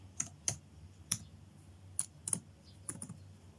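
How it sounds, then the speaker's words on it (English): Sparse, quiet keystrokes on a Windows computer keyboard, a handful of crisp separate clicks at an uneven pace, close and alone. "Then type in FTP"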